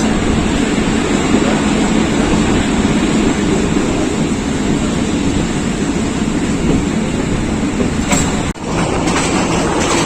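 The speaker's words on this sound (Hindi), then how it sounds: "स्लो स्पीड में गुजरात स्टेशन से गुजर रही है रावल एक्सप्रेस।" Rawal Express rolling slowly through Gujrat station in Pakistan, a steady, loud rumble of wheels and carriages filling the whole stretch, with a brief rattling jolt near the end.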